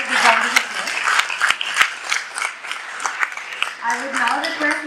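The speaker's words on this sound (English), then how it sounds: "Can we have a big round of applause?" An audience at a mental health advocacy event claps in dense, uneven bursts, with loud sharp claps standing out, while a voice keeps talking over the applause.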